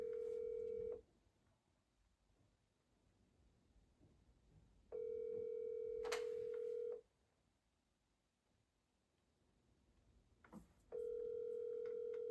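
A phone call rings out unanswered, three long evenly spaced electronic tones of about two seconds each with quiet gaps between them, faint against low room noise.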